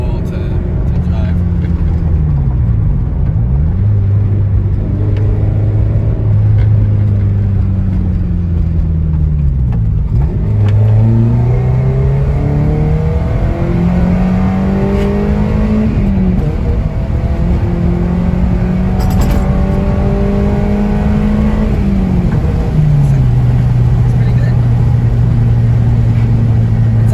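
A Toyota MR2 with a swapped K24 engine drives and revs continuously, its loud mid-pitched engine note rising and falling through gear changes, heard from inside the car while someone talks over it.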